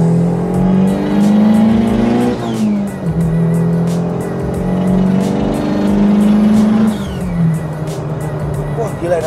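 A turbocharged Honda Brio with an L15A engine tuned to 320 hp accelerates hard through the gears, its engine note rising loudly, dropping at each shift, then climbing again. Someone talks over the roar.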